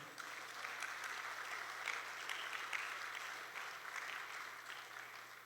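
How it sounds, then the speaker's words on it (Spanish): Congregation applause for the Lord during a church service, a steady wash of clapping that holds for several seconds at a fairly faint, distant level with no speech over it. "Denle un aplauso al Señor, hermano."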